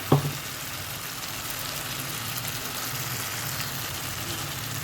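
Pointed gourd (potol) frying in a pan and being stirred makes a steady, even sizzle at close range. One brief knock comes at the start and there is no speech.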